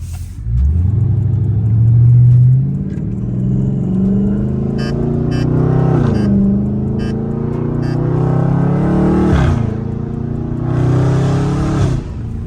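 A Dodge Charger Scat Pack with the 392 engine in custom mode, driven at night, revs and accelerates with a deep exhaust rumble through gear shifts, with sharp crackling pops spitting between pulls, loud and close.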